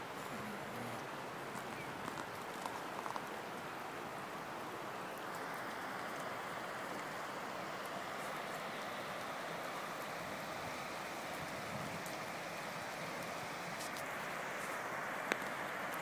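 Fast floodwater flows like a river during a rainstorm, a steady, quiet rushing and hissing of water with rain patter over a landing strip, with no pauses.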